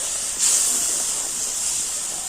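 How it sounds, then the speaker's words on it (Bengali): Ground spices, including coriander and cumin powder, fry in oil in a pan, a continuous close hiss that swells briefly near the start and then holds steady with no talking. "সমস্ত মশলা কিন্তু খুব ভালো করে আমি কষে নেব"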